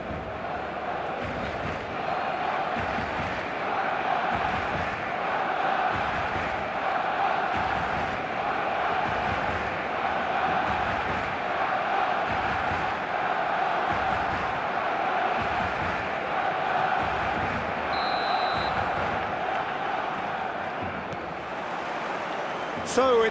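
Stadium crowd in the eFootball video game, a dense continuous roar of many voices with rhythmic chanting pulses, steady and moderately loud for the whole stretch.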